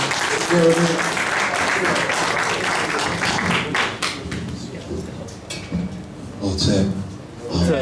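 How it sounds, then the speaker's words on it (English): Conference audience applause for a speaker, a fairly dense clapping that thins out partway through into scattered claps, with voices talking over it toward the end. "So let's give him a round of applause."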